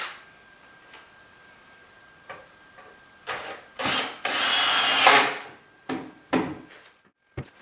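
A power drill drives 2-inch screws into a wooden storage bench in a few separate bursts, the longest a sustained whine of about two seconds, mixed with quieter clicks and knocks between runs.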